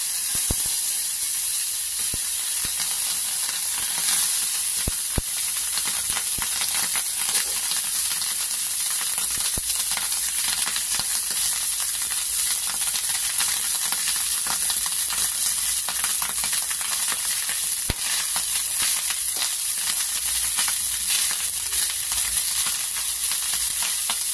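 Rice being fried in a pan for jeera rice, a steady, loud, close sizzle with scattered crackles and scraping clicks throughout, no voices.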